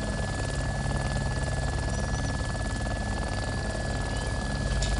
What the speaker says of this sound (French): l'hélico à droite